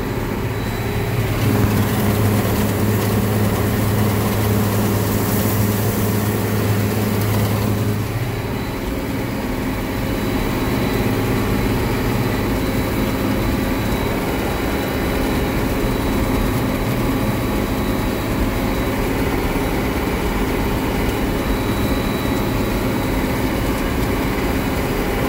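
A tractor runs steadily while baling corn fodder, its engine a constant low drone with a mechanical whir on top, close and loud throughout, with a brief change in tone early on and no talk.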